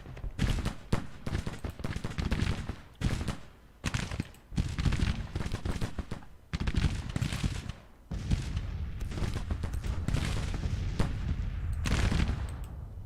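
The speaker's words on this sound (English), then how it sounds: "artillery kind of caught a little bit in some heavy fire" Heavy Civil War gunfire and artillery in the Grand Tactician video game, with dense overlapping volleys and cracking bursts in irregular clusters, loud and continuous with brief gaps.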